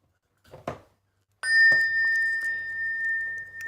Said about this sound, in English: there is a bell song that's part of our liturgy before a lecture